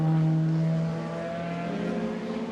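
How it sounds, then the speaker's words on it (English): DTM race car engine at Zandvoort during qualifying, holding a steady high-pitched drone under acceleration that dips slightly mid-way, heard from a distance as a continuous tonal whine. "Back on the throttle again for Gary Paffett, eagerly and tenderly using the accelerator."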